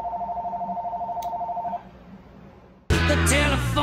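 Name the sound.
telephone ringing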